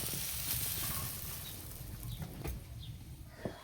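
Soya chunks frying in oil in a wok, a steady close sizzle with a few light clicks of stirring and a sharper tap near the end, heard alone without talk.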